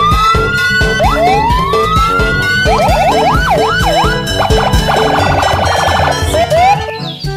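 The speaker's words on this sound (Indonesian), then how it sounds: "Yang ini ada mobil polisi." A toy police car's electronic siren plays loud and continuous, cycling through rising wails, fast warbling yelps and rapid trills over a steady synthetic backing beat, with no talking.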